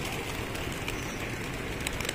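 A flock of pigeons in the Maldives fills a steady, moderately faint outdoor soundscape with soft cooing and bird activity amid broad background noise.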